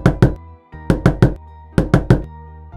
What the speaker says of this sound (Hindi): अगली सुबह 5 बजे उसकी सास दरवाजा खटखटाती है।